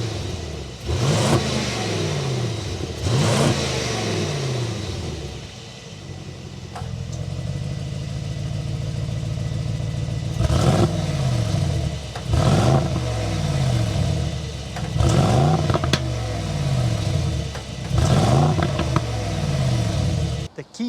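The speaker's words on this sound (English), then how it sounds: "start up this bi-turbo so you could hear that exhaust note" A 2025 Mercedes-AMG GLE 63 S Coupe with a bi-turbo engine starts and revs repeatedly, loud and close, each throttle blip rising and falling in a deep, rumbling exhaust note over a steady idle.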